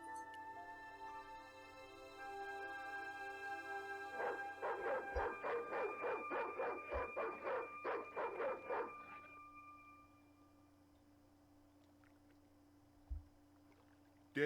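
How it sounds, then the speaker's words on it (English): Dog in the game Broken Sword 2 barking in a rapid run of about a dozen sharp, evenly spaced barks over a steady musical drone, then falling silent apart from a few soft knocks. "It's that dog. He's crazy."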